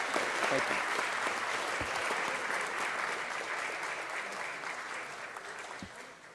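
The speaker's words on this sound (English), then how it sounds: "give a warm round of applause to the principal of Dorsey High School, George Bartleson." A city council chamber audience gives a warm round of applause honoring a high school principal. The clapping is steady and moderately loud and tapers slightly over several seconds, with no talk.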